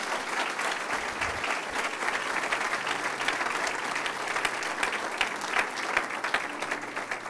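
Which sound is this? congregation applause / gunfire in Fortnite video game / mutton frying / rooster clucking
congregation applause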